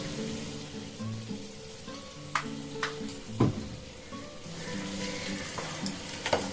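Mustard oil sizzles and crackles steadily in a pan while okra cooks with sesame and poppy seed, with a few sharper clinks and stirring knocks cutting through the frying hiss.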